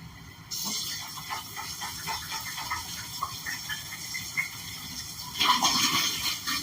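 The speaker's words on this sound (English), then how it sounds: "I just start with a simple rinse of all the bottles" Water runs and gushes while glass bottles are rinsed in a sink, a steady close splashing hiss with small clinks and surges that grows louder near the end, with no voices.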